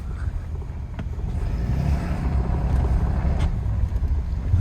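A 2022 Ram 3500 Cummins diesel pickup truck rumbles steadily as it drives along with the exhaust brake on, with wind buffeting the microphone and a low, continuous drone throughout.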